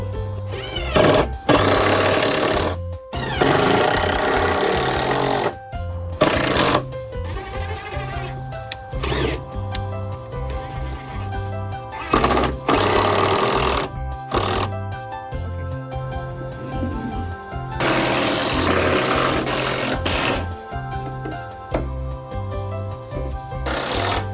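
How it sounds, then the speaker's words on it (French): A power screwdriver drives screws to fix climbing volumes onto a home climbing wall, giving several loud whirring bursts of a few seconds each, separated by quieter gaps with faint handling noise. "j'ai 3 volumes que je vais visser sur le mur"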